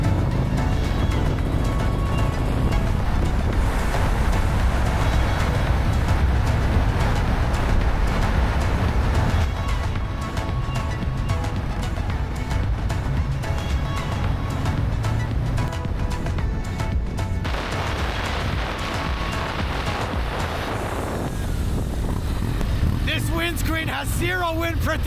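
A 2024 Harley-Davidson touring motorcycle under way, its engine and wind a steady low rumble throughout with a rider talking over it and a radio faintly audible.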